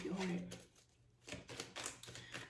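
Tarot cards shuffled in a few quick, crisp bursts near the microphone, following a moment of speech at the start.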